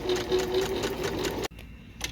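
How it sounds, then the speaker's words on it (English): A sewing machine runs fast, stitching a quarter inch from the edge of a cotton scrap-fabric napkin, a loud close rapid whir that stops abruptly partway through, then near silence. "we're going to sew a 1/4 inch from the edge on the exterior of the napkin"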